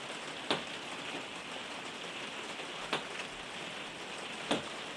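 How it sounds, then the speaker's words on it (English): Rain falls outdoors on a dull, dark day as a steady, soft hiss, with a few sharper drip-like taps standing out now and then. "it's pretty rainy here at the minute"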